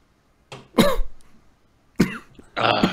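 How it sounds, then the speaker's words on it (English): Several harsh coughs in two bursts, loud and close, separated by a short pause. "I'm coughing."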